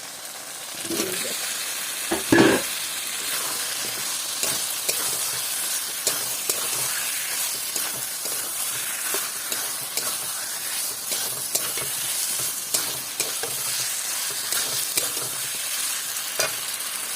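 Tomatoes hit a pan of frying chicken for a Bengali coconut chicken dish, a loud continuous hiss and sizzle with repeated scraping stirs and a few sharper clatters of the spoon against the pan.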